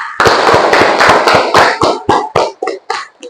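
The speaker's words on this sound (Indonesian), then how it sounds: "tepuk tangan untuk Raisa" Schoolchildren in a classroom clap in unison for a classmate, a fast run of sharp, loud claps that slows into a few separated claps and stops.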